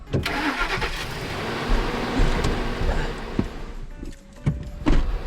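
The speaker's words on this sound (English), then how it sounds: "You want to just hop in it and then start it and put it in drive" A car engine cranks and starts during a vehicle recovery, a close mid-range rumble with clicks and knocks, and brief sharper bursts toward the end; no talking is heard.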